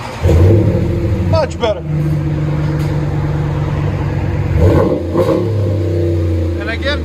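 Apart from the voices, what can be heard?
RAM 1500 5.7L HEMI engine revving through aftermarket exhaust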